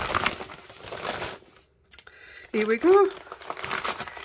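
Crinkly packaging rustles and crackles as a stamp parcel is opened, a close, loud burst of crumpling heard between stretches of someone talking.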